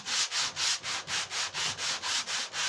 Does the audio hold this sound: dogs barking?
no